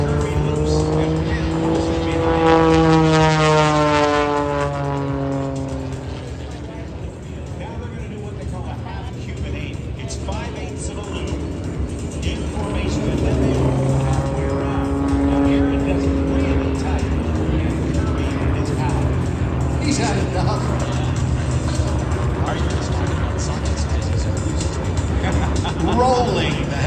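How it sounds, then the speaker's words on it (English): Red Bull helicopter rolling during an aerobatic display at the Miramar airshow, its rotor and engine drone rising and falling in steady sweeps, heard under an excited commentator talking almost throughout. "Rolling the helicopter now, all the way around."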